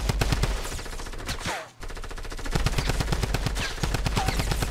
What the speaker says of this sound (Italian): Ti stanno sparando con un altro team